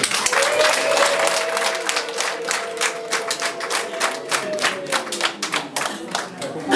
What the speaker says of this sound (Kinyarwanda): Mwongere mu ntiza amashyi n'impundu dushimirize.